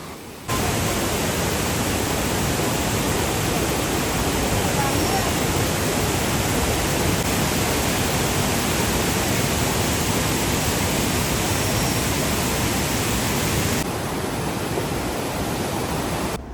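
A powerful waterfall in Vagamon, swollen by monsoon rain, roars continuously, a dense, loud wash of rushing water that holds steady throughout without pause.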